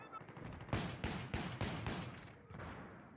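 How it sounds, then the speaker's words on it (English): Rapid bursts of Dao-12 shotgun fire in the video game Battlefield, five or six loud, closely spaced blasts in a quick rhythm, then a fading tail. "Someone's using the Dow 12. I can fucking hear it."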